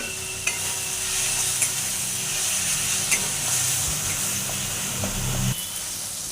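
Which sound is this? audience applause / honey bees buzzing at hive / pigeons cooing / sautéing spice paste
sautéing spice paste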